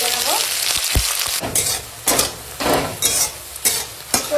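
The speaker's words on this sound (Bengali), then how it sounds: "তো দেখো এখন তেজপাতার সঙ্গে পেঁয়াজ লঙ্কাটা এরকম ভাজা হয়ে গেছে" Sliced onion and green chili frying with bay leaf in hot oil in a pan, a steady close sizzle broken by several bursts of scraping and stirring strokes.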